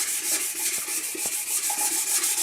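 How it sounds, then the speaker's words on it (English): Fine 2000 grit wet and dry sandpaper rubbing along the grain of a wood workpiece, a steady close scratchy hiss in quick repeated strokes with faint clicks, no talking. "all I'm doing is sanding off all the furry bits"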